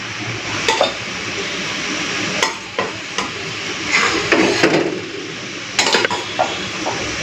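Fried brinjal tipped into a pan and stirred: scraping spatula strokes and clattering knocks against the metal come in irregular bursts over a soft sizzle, close and fairly loud with no talk.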